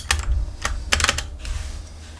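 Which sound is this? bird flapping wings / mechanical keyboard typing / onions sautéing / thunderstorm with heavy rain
mechanical keyboard typing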